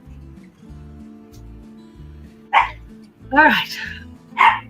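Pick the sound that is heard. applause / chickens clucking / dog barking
dog barking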